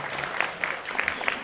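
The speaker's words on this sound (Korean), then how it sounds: "우리 박수로 우리 인사하겠습니다" A church congregation claps for newlyweds during a Sunday morning service, a short burst of moderately loud applause with sharp individual claps standing out from the steady patter.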